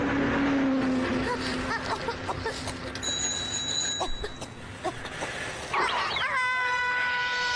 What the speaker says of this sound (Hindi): एक बिल्ली।